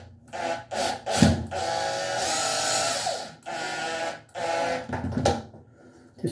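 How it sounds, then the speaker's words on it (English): A screw gun drives screws into a Kohler/Sterling tub and shower door frame: several short whirring bursts with gaps between them, close and fairly loud. "I'm going to hold this, push my screw gun, and I just go"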